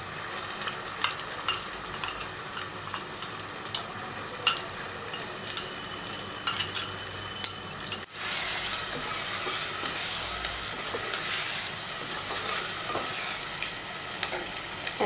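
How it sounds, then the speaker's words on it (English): A paste of coriander powder, red chilli powder and turmeric powder fries for mutton korma, with steady sizzling punctuated by regular stirring scrapes, growing louder and denser about halfway through. "Now we are going to add this paste of coriander powder, red chilli powder"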